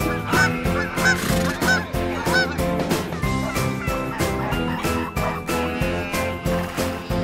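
Geese honk repeatedly over a dense, steady music bed in a children's farm animal toy video, the calls recurring in short bursts throughout and partly blended into the music.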